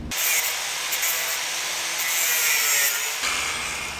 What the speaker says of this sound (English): now we're gonna go trim the other side